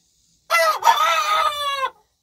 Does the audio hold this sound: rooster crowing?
yes